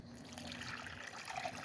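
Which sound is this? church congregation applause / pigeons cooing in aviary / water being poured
water being poured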